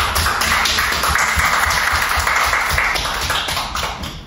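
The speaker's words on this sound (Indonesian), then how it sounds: "kita beri tepuk tangan untuk Widya" A classroom of students claps for a classmate, a brisk burst of many hands slapping together at close range that tapers off toward the end.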